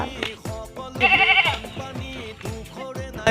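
Bleating livestock during Assam floods call out in several short wavering cries close by, one louder sustained bleat in the middle, with no other sounds competing.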